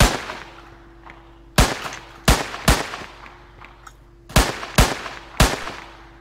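Gunfire in Minecraft aimed at mobs: six loud, sharp shots in irregular pairs and singles, each with a short ringing tail, over a low steady hum, with no voices.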